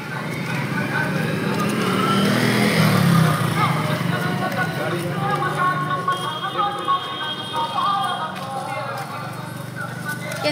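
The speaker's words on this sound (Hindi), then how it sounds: "एठी ट्रैफिक जाम हो जाइछि" Road traffic in a jam on a busy market street in Odisha, India: a continuous loud rumble of engines and vehicles with clattering and scattered horn-like tones, while people talk nearby throughout.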